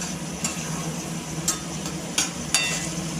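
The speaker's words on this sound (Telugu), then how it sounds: "ఫ్రై రొయ్యలు ఫ్రై చేస్తున్నాం" Prawns frying in a pan with ginger garlic onion paste, a steady low sizzle broken by four or five short scraping clicks of a spatula, close and moderately quiet with no talking.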